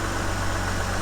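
A Ford Escape engine idles with a high idle fault, a steady close mechanical hum and low drone held under 1,000 RPM, brief and unbroken.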